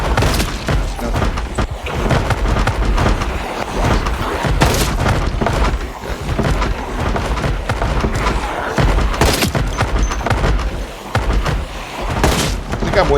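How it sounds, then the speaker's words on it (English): Gunfire from a gun in the game Project Zomboid, a dense run of loud booming shots and thuds that repeat irregularly throughout, close and heavy, with a voice talking between them. "I'm wasting bullets through there"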